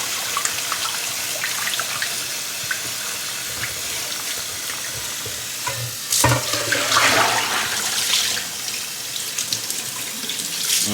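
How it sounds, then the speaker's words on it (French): Cold tap water runs steadily into a kitchen sink while homemade vanilla butter is rinsed a second time, with a brief louder gush and splash partway through. "On rince une deuxième fois."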